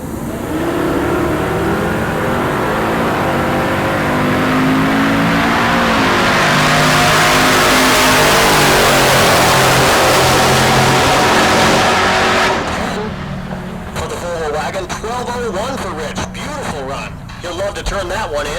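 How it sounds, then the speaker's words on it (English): A Pontiac G8 and a Volvo wagon with an LSA supercharger drag race at Heartland Park Topeka, engines roaring loudly and building for about twelve seconds before fading into distant rumble, with a voice heard over the noise. "Got Rich Thorpe in the left lane, the G8. Cameron Thorpe in the right lane, the Volvo wagon with the LSA supercharger."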